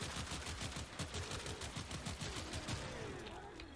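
Akjagara Prime semi-auto pistols fire in Warframe, each trigger pull sending two bullets, heard as a dense, loud, rapid stream of punchy gunshots that barely pauses over a few seconds.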